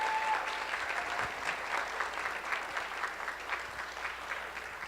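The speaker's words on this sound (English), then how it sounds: "Let's have one more round of applause" A conference awards plenary audience claps in a steady round of applause honoring women, a moderately loud crowd of many hands with a fairly even texture and no talking.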